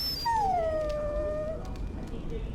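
Dog in the video game Dragon Age: Origins letting out a single drawn-out, falling whimper that tapers into a soft whine, close and clear over a low steady background.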